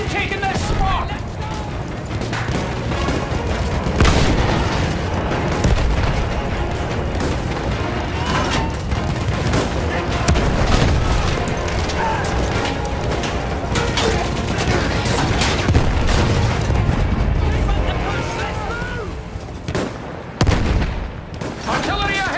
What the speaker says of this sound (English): Artillery ahead!